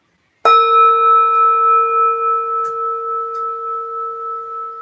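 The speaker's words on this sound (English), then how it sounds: "I'll ring the bell to signify that." A meditation bell is struck once, ringing out with a clear, sustained metallic tone that slowly fades while the room stays quiet.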